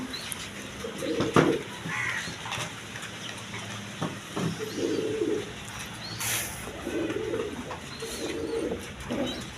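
Pigeons of several breeds, including Rajgolla types, coo repeatedly in a busy pigeon loft, soft low throaty calls recurring throughout alongside scattered other bird calls and background noise.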